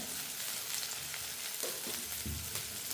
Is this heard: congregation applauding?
no